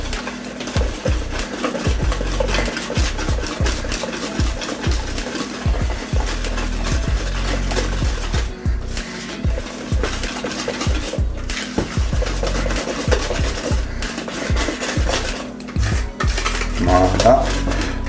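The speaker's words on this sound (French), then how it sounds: "on reprend notre fouet. Et maintenant, on mélange bien notre pâte." A whisk beats pineapple cake batter in a bowl with quick, rhythmic clinks and scrapes against the sides, close and loud, continuing steadily throughout.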